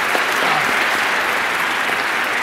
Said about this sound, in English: Can we get a big round of applause for our panelists?